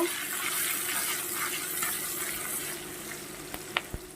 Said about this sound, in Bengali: লঙ্কাগুলো একটু ভেজে নেব